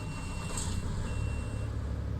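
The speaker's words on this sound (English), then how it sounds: "But listen to this engine when it fires up." A heavy truck engine in a truck-driving video game starts up and settles into a steady low rumble, loud and close, with a faint high whine on top and no talk.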